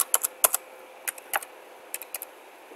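Someone types on a computer keyboard close up, a quick run of sharp key clicks in short irregular bursts, separated by brief pauses over a quiet background.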